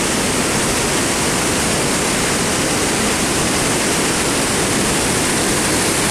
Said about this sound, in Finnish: Tuossa kivien raossa virtaa mahtavasti vesi.